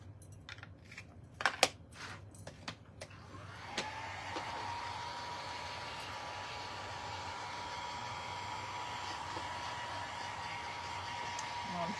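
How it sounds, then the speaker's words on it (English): A heat tool drying stamped ink on a card for a snowman craft starts after a few seconds of clicks and handling taps, then blows as a steady close whooshing hum that runs unchanged to the end. "I'll dry that down real quick"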